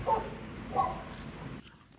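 A dog makes soft whimpering and yipping sounds, a couple of brief high cries over steady background noise, fading near the end.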